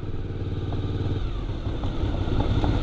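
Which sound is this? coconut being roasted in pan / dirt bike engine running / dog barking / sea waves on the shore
dirt bike engine running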